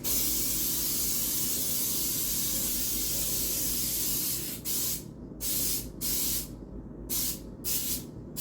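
Baking spray with flour hisses from an aerosol can over a kitchen sink, first in one long continuous blast of about four seconds, then in several short bursts separated by brief pauses, loud and close with no voices.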